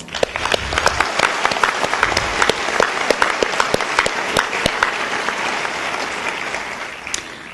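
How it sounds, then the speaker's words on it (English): A commencement ceremony crowd breaks into sustained applause, dense clapping from many hands filling the hall loudly and evenly, with no voices over it. "Let's give them one more round of applause."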